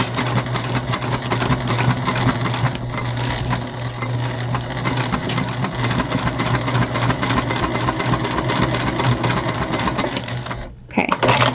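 A sewing machine runs continuously while back-stitching a big tote bag, a loud, fast, even mechanical whir with rhythmic needle clatter. It pauses briefly near the end, then starts again.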